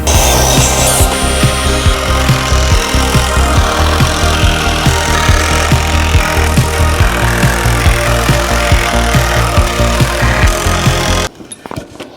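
A power drill with a new bit drills pilot holes, whirring steadily at close range for about eleven seconds, with small knocks and grinding in the wood, then cuts off abruptly.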